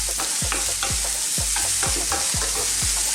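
Chopped red onion frying in a pan over high heat, with a steady loud sizzle broken by a regular rhythm of about eight scraping stir strokes, close up and with no talking.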